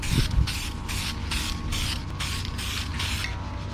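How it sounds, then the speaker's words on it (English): Second coat of spray paint going onto plastic interior trim of an Acura TSX, a close, steady series of rhythmic hissing bursts with a low rumble underneath. "I'm about to spray the second coat"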